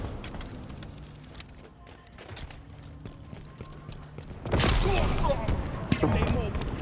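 Gunfire in a Star Wars video game: a steady run of sharp shots crackles throughout, then swells into a much louder, denser barrage partway through.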